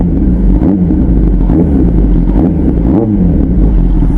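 Kawasaki ZX10R motorcycle fitted with carbon parts, its exhaust note a loud, close, continuous deep rumble with small swells of revving, no talk.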